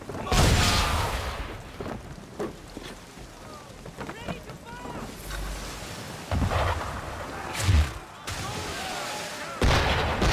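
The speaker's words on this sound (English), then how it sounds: "Why is he shooting at us?" Heavy cannon blasts strike near a ship at sea in Assassin's Creed 3 as several booming impacts ring out over wind and water, with voices talking in between.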